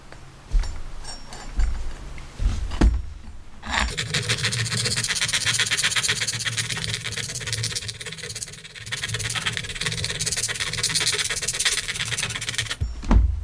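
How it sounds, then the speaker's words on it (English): A Gold Dollar 66 straight razor is honed on a 400 grit diamond plate with no pressure, making a continuous close, gritty scraping and rasping sound with a brief break, and no voices. "I'm not putting any pressure at all, I'm just letting the diamond plate do the work."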